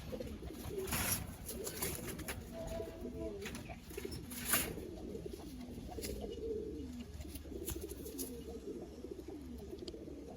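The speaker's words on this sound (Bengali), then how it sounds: "এই হলো নরকবুতরটা" Pigeons coo softly in a loft of kept birds, low throaty repeated calls overlapping in a gentle rumbling chorus, with faint chirps and a little background noise.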